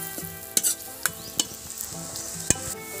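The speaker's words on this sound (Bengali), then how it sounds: "ওসুন আর পেঁয়াজ ভাজা হয়ে গেছে" Garlic and onion fry in a pan for mutton curry, giving a steady sizzle broken by several sharp clicks and scrapes of a spoon against the pan.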